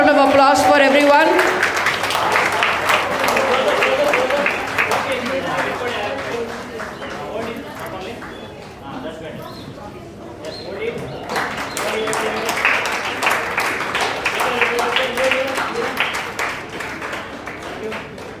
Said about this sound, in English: Can we have a huge round of applause for everyone?